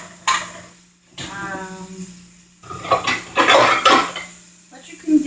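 A metal pan clanks down over portabella mushrooms topped with mozzarella cooking in olive oil, with scraping and clattering of cookware while someone talks over the kitchen sounds.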